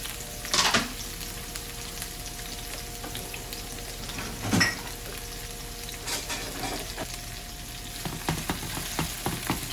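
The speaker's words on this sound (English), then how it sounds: "When you put it in, you should hear the sizzle." Steady sizzling of zucchini noodles frying in hot oil, with a few louder bursts of crackle and stirring; no voices.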